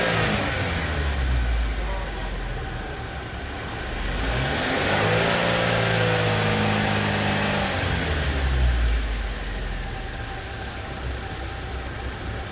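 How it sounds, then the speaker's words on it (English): A car engine on a diagnostic bench test with a Picoscope attached for an oxygen sensor check, snapped wide open to about 5000 rpm and back, rising in a strong sweep then falling, loud and close over a steady idle. "I just blipped it wide open pretty much up to 5 grand real quick."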